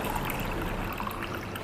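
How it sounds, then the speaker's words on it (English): Matcha bubble tea is poured into a cup over tapioca pearls, giving a brief, steady liquid stream and gurgle, close and continuous. "Pour our bubble tea,"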